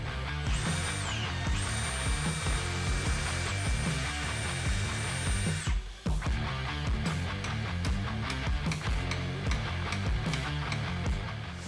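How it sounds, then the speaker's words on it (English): A power drill whines at high pitch for several seconds, then cuts out and gives way to clanking and rattling mechanical noises nearby. "now we're going to get the drill and just try to drill it out"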